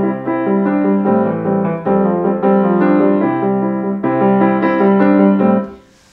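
Solo piano plays a mixed-meter piece in 7/8, with loud, accented chord groupings in an uneven lopsided pulse, ending with a held, fading chord.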